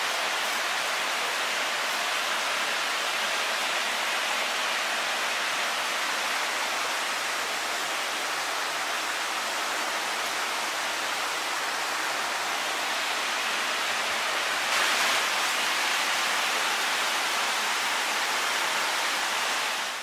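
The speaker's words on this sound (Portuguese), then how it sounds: "o som da água correndo em direção a ele é como uma chuva forte" Water rushes through a cave tunnel, a loud and continuous broadband roar like heavy rain, steady throughout with no voices.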